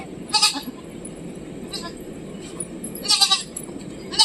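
Two young kids and a nanny goat being loaded into an auto-rickshaw bleat in a few short, nasal calls spaced a second or more apart, over a murmur of background voices.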